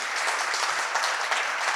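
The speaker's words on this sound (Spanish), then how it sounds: "Le damos un aplauso" An audience at a forum on innovation with native wood gives a guest a steady wash of applause, dense and even, filling the room without pause.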